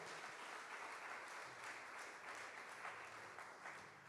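A church congregation applauds for the Lord during a Spanish-language sermon, a steady, dense wash of clapping that holds evenly for about four seconds without a break.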